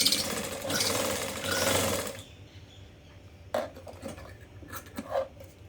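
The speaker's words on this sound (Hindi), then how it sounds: "फिर जो नीचे की गोलाई थी ना, उस साइड से सिलाई लगानी है" A sewing machine runs in a steady whirring burst while stitching a shirt collar, then stops, leaving a few faint clicks and knocks of fabric handling.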